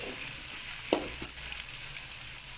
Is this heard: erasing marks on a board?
no